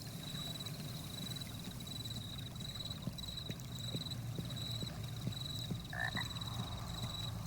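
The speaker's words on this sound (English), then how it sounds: "Crickets and frogs." Night ambience in The Black Mirror video game, with a steady chorus of frog croaks and crickets and a high insect trill running throughout, plus faint soft clicks, at a constant moderate level with no talking.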